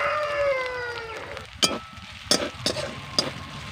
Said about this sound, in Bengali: এবার আমি আদা রসুনকে ভালো করে ভেজে নেব।